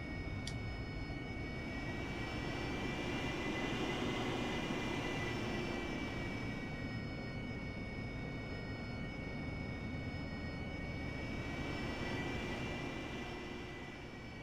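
Engine noise from an aircraft taxiing behind a follow-me vehicle in the flight simulator game DCS, a steady drone with a high whine held at even loudness throughout, no speech.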